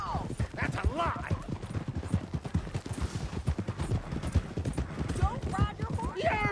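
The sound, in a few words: horse galloping in Red Dead Redemption 2 video game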